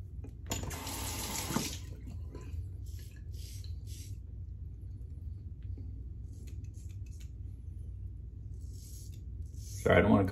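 A bathroom tap runs while a razor is rinsed between passes of a face shave, giving a steady gush of water that starts and stops, with a brief louder splash at the end.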